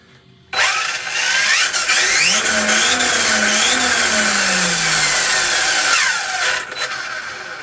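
Arrma Felony RC car driving in reverse, a smooth high electric motor whine with drivetrain whir rising and falling in pitch, loud and close, starting abruptly and easing off near the end.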